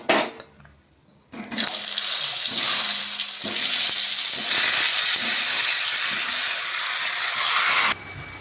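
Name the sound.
sliced mango with salted juice added to hot kadai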